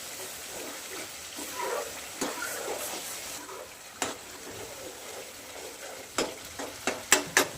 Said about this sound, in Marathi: आपण परतून घेणार आहे कांदा आणि टोमॅटो